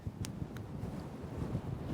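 Steady wind buffets a microphone out on a golf course, a low rumbling roar with a couple of faint ticks, no voices.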